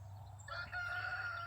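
A rooster crows near a flock of chickens, one drawn-out cock-a-doodle-doo rising over a low background hum, fairly faint and with no talking.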